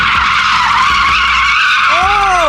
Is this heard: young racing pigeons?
no